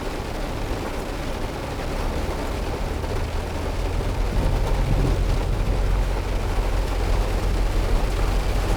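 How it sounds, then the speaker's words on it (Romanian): Steady, dense downpour of heavy rain in Hammerfest, Norway, a constant broadband roar with low rumble, growing slightly louder toward the end, no voices. "S-a pornit ploaia, până acum eu da mocănește. Acum mai dă bărbătește."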